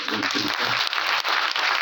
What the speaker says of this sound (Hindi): बहुत बहुत तालियां अशोक भाई